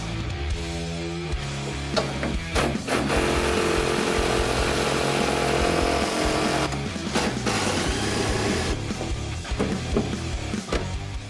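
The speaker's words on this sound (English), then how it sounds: "we're going to use our Makita cordless impact driver with a 13/16 socket and an 11/16 combination wrench" Makita cordless impact driver with a 13/16 socket removing roll cage bolts from a classic Jeep during a teardown, producing loud, close, sustained buzzing and rattling hammering in long bursts with brief pauses.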